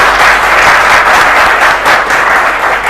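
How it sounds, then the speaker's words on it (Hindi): Loud, dense applause from a crowd at a Hindi kavi sammelan poetry recital, a continuous wash of many hands clapping that stays strong throughout. "तालियां बजाइए"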